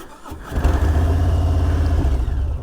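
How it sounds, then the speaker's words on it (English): Motorcycle engine starting: a brief starter whir catches into a loud, steady rumbling idle that holds for a couple of seconds, with no voices. "We have the firing of the bike to turn the bike on."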